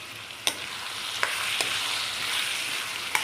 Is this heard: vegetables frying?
yes